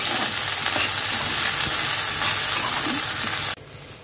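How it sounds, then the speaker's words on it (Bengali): Potatoes frying in oil in a pan give a loud, dense, steady hiss and crackle, close up, cutting off sharply near the end to a quieter sizzle. "আলুটা অলমোস্ট দেখো ভাজা ভাজা হয়ে গেছে"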